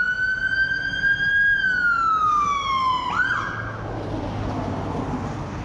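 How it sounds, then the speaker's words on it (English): A wailing emergency vehicle siren sweeps loud and close, its pitch sliding down and then cutting off, leaving a steady traffic rumble with no one talking. "A lot more sirens here than we have back in Missouri."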